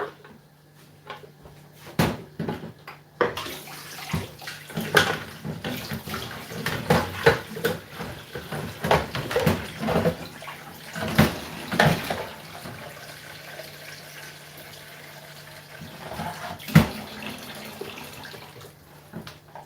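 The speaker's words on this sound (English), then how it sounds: "And I'm gonna fill this with some water." Tap water runs into a cooking pot in a home kitchen while soup is being made, a splashing, gurgling stream punctuated by clunks and knocks of handling, with no talking.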